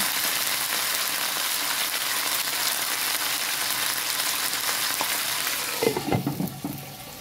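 Chicken pieces for chicken hamonado fry steadily in a pan, a loud, even sizzle filling the clip, with a few clattering stirs and scrapes near the end.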